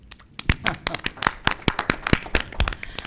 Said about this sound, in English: And yes, you can clap for that because our team wants to hear it.